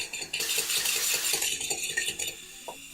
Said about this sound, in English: take a fork, poke the yolks, and then whisk it up a bit